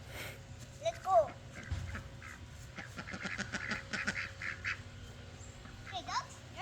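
Farm ducks quack in a quick, chattering run of calls close by, with a few louder honks at the start and end and a person talking intermittently underneath.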